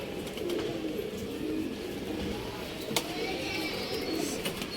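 Pigeons of the phatta breed cooing steadily close by, with a soft low rolling murmur throughout and someone talking over it.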